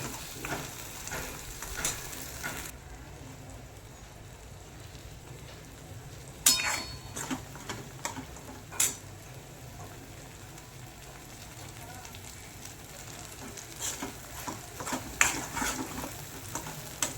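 A spice paste (vaatan) roasting in oil in a pan for a mixed Bhogi vegetable dish, with a soft steady sizzle broken by several sharp scraping strokes of stirring, moderately close.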